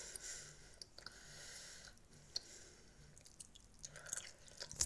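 Someone chewing gum close to the microphone, soft wet smacking and squishing bites repeating irregularly over a quiet background, with no talking.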